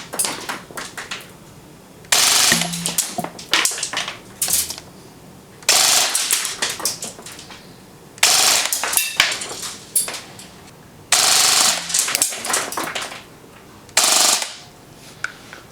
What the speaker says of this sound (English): Go ahead and test the rate of fire.